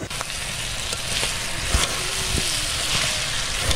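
Cow head skin cooking with mung dal and bay leaf in a pan, a steady close sizzle of frying with scraping stirring strokes and occasional clinks throughout.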